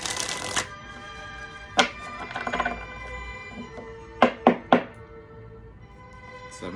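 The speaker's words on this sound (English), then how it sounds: "They're saying give one more shuffle and then do a spread." Tarot cards shuffled by hand ahead of a spread: a quick papery riffle, a softer riffling stretch, then three crisp taps as the deck is squared, close and clear with no talk.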